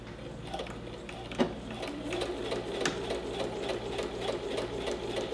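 A sewing machine stitches a lapped zipper with a steady, rapid mechanical whirr and fine ticking needle beats, running continuously at close range and moderate volume.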